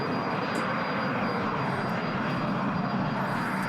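A continuous airliner engine drone from the air traffic control game I Am An Air Traffic Controller 4, as an aircraft flies its approach course toward a new runway, steady and unbroken with no voices.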